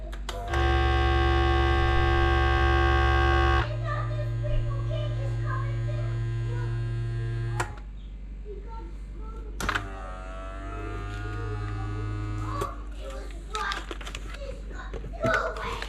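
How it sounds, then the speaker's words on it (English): A vacuum sealer hums loudly for a few seconds, sealing elk backstrap, then a lower motor drone runs intermittently while a person talks over it. "Pretty good vacuum seal."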